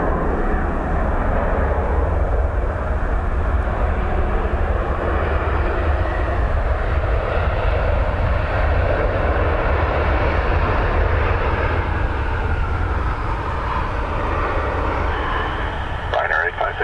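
A Ryanair jet lands at Dublin Airport in crosswinds, its engines making a continuous, fairly loud rumbling roar that holds steady for the whole stretch and fades slightly near the end.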